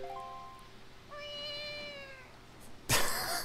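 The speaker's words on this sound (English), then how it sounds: "It's just a cat." A cat meows twice in Zelda: The Wind Waker HD, a short meow followed by a longer drawn-out one over soft ambient game sound, then a sudden burst of noise.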